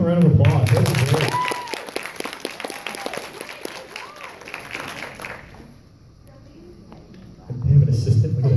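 Audience applause and cheering for costumed cosplayers at a fan convention panel, loud clapping tapering off over several seconds while someone speaks over it, then a fresh burst of clapping near the end.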